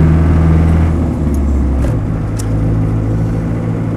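A Land Rover 90 hardtop with a 2.5 diesel engine drives along, giving a loud, steady, close low diesel drone with a slight pitch change and no talking.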